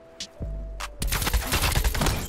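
AK rifle gunfire in the Black Ops Cold War video game, a few scattered shots early on, then a dense, loud burst of rapid automatic fire that runs on without a break to the end.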